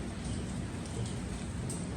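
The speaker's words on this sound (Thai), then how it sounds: "ฝนก็ตกอย่างเงี้ย" Steady rain pours down outdoors in a rural Thai village, a dense even hiss that fills the whole stretch with no voices over it.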